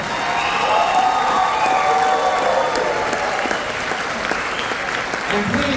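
Sustained crowd applause for a high school honor band at a concert, dense and steady throughout with some cheering mixed in.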